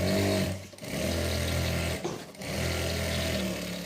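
A sewing machine runs in steady bursts while stitching down the middle of a salwar piece, humming loudly with two short pauses between runs and no talk over it.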